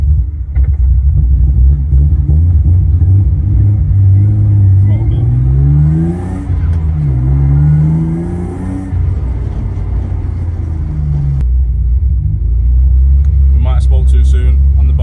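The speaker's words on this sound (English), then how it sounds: "At least the car's happy idling now." A BMW E36 drift-spec car idles in standstill road traffic, its engine a steady low rumble with a few gentle rises in revs, close and loud with people talking over it throughout.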